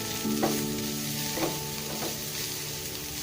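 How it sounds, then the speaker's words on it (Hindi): Chicken fries in a pan with ginger-garlic powder, giving a steady close sizzle across the whole stretch, with a few brief stirring scrapes and clinks and no talking. "ये चिकन फ्राई हो रही है"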